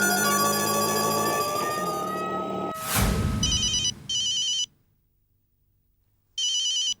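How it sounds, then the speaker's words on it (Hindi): A phone rings in loud electronic chirping bursts, two close together, a silent gap, then another, following a brief whoosh and sustained background music at the start. "जेठालाल का फोन।"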